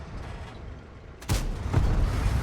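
Tank gun fire in World of Tanks from a GSOR 1010 tier 8 premium tank, shooting near maximum view range: a low ambient rumble, then two heavy booming shots about half a second apart, the second rolling on.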